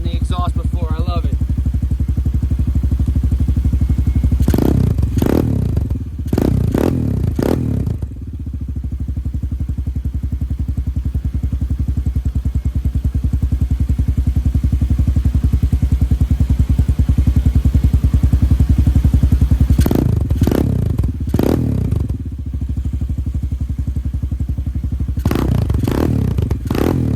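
A 2024 Hawk 250X motorcycle with a performance exhaust idles with a deep, rumbling note, sharp revs blipping up several times before settling back, loud and close throughout.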